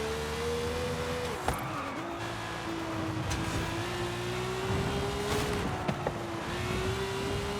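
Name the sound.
Ferrari Portofino rally car driving in video game Forza Horizon 5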